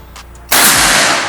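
A PCP air rifle fired without a silencer gives one sudden, loud, sharp crack, followed by a sustained broad rushing noise. No one speaks.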